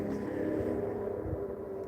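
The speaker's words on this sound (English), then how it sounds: "let those stupid motorcycles get a mile away so I can't hear them anymore" A low, steady engine drone of motorcycles hums in the distance, passing on a faraway road at night, with no talking.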